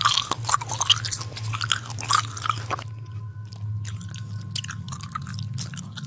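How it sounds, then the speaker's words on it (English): Wet, crunching chewing comes from a creature in the SCP 096 (COMIX) video game, a run of close, repeated bites over a steady low hum, fading to fainter, more scattered chewing about halfway through. "That's the sound of chewing."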